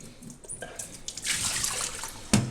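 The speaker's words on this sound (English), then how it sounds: "We're going to take the LifeProof case out of the jar." A LifeProof iPhone 4 case is lifted out of a jar of water, giving a close splash and trickle of water running off, with scattered drips and a small clatter at the end.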